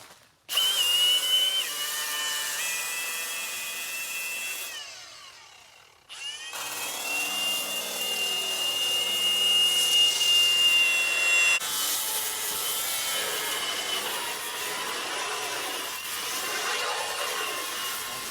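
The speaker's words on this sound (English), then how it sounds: "So now the board is all sanded and ready for a wet sand." Power sander working over a surfboard blank, a steady loud whir with pitch shifts as the tool moves, a brief pause near five seconds, then continuous sanding resumes to the end.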